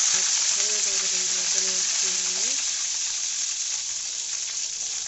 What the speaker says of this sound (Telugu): స్టవ్ ఆన్ చేసి కడాయి పెట్టుకొని ఆయిల్ వేసి తర్వాత ఆవాలు వేసుకుంటాను